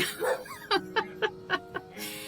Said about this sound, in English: Our dogs have a very bad tendency of going off.